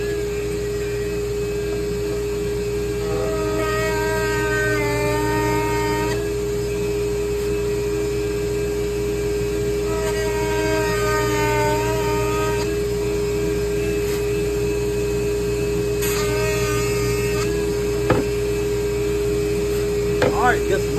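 A Dremel rotary tool fitted with a small burr carves a Bigfoot figure, giving a constant close high-pitched whine with a steady drone beneath and occasional grinding changes as the bit bites, while a voice talks over it.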